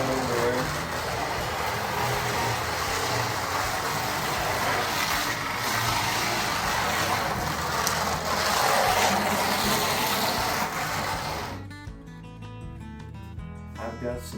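A Carrera Digital 132 slot race car on worn original tires runs laps around a plastic track, its small electric motor whining continuously as it passes nearby, then cutting out near the end.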